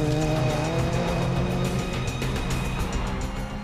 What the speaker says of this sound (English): These rally cars are competing in the Tour of Cumbria.